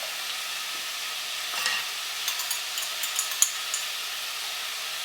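Minced beef sizzling in a pan, a steady bright frying hiss with light scraping and clicking as it is stirred, close and alone.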